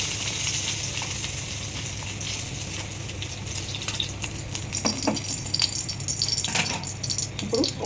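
Gongura leaves and green chillies fry in a pan, giving a steady close sizzle with louder crackling and stirring bursts in the second half.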